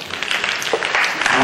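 An audience at a talk on tourism breaks into brief, dense applause, a crackling wash of many hands clapping that fills the short moment.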